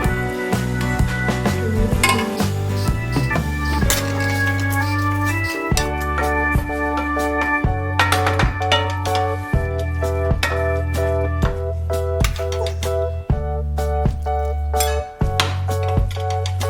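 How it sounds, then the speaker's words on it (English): A ladle clinks against a cooking pot while hot broth is scooped and stirred, with repeated metallic chinks throughout over a steady low hum of music. "With a ladle, I have a 1 cup hot broth, stirring often."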